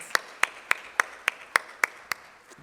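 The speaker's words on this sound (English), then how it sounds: "give yourselves a big round of applause for your efforts and your continued support" Audience clapping at a fundraising gala comes as about nine sharp, evenly spaced claps in a steady rhythm, fairly close and with no talk over it.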